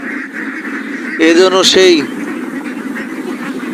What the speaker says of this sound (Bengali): সে যখন সেখানে যায় সেখানেই বাঁশির সুরে সুরে হাঁসগুলো যেত